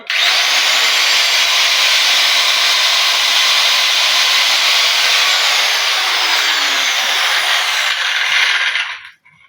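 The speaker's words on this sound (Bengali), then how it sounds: "এই ভিটটা দিয়ে এখন মার্বেল আমরা ফুটো করছি" Power drill boring a hole through marble with a marble drill bit while a bathroom door is being fitted: a loud, steady high-pitched grinding whine holds for about eight seconds, close up, then stops abruptly.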